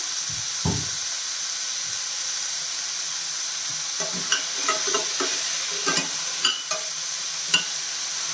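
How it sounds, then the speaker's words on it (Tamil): Ash gourd sautés in a pan with a steady hiss of frying, then a run of clattering spoon scrapes and knocks as it is stirred. "ரெண்டு ஊசணி நல்லா வதங்கணும்"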